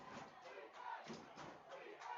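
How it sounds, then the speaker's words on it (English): Home crowd at a Westfield at Hillsborough high school football game yelling and cheering in a steady, somewhat distant roar with rising surges, no clear voices standing out. "Listen to this crowd going crazy here."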